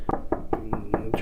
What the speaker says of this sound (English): And here we are knocking again